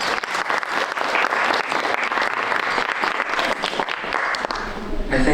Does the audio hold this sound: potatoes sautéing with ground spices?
no